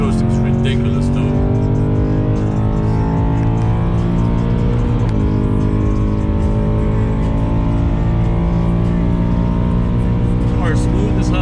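A powerful V8 engine in an air-suspended BMW M3 runs continuously in aggressive mode, loud and close, with a deep throaty rumble and rising, shifting pitch as it revs through gears.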